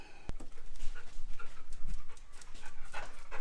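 A dog pants rapidly and rhythmically close by in a workshop, quick breathy huffs repeating steadily with a brief sharp click near the start.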